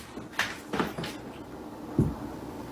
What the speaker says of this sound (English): Something opens that door.